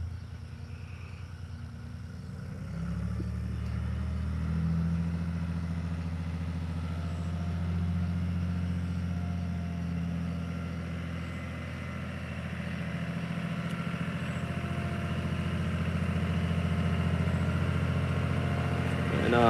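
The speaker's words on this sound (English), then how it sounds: "And I like the way this Wisconsin sounds here." A Wisconsin engine on a barn-found Dearborn baler runs at a steady idle, its loud, even mechanical drone picking up after a quiet first few seconds and continuing without a break.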